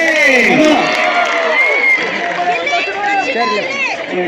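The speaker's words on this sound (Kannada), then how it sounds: "ಇಬ್ಬರು ಬರೀ ಜೋರಾದ ಚಪ್ಪಾಳೆ ಎದುರಿಸ್ರಿ." A festival crowd at Hampi Utsav cheers and whistles loudly, with a dense roar of voices and whoops sustained throughout and an announcer's voice over it.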